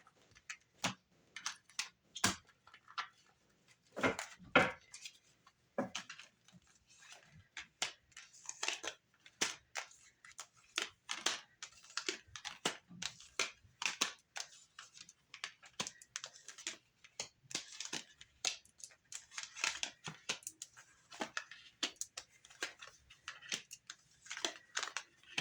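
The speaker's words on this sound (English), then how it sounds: "I'm going to cut the deck and then I'll lay it out." Tarot cards handled at close range for a Pisces reading: dense, irregular flurries of crisp card snaps, taps and slides on a tabletop, quiet overall with short bursts throughout and no talking.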